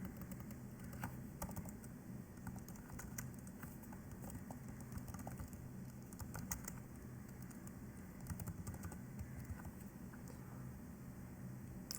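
Steady computer keyboard typing fills the whole stretch, fairly faint and continuous with irregular key clicks, while an address is entered into a LaTeX resume; no one speaks.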